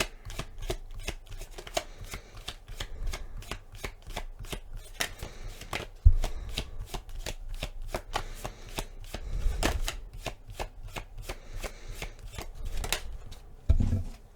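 A tarot deck is shuffled by hand in steady, rapid, close-up card slaps and riffles that run for the whole stretch, with a few heavier knocks along the way and no talking.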